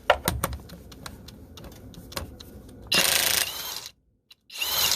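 A Kobalt XTR high-torque impact wrench runs on mode 2 on a torqued fastener: light clicks and taps lead into a loud, harsh hammering burst, a brief silence, then another short burst.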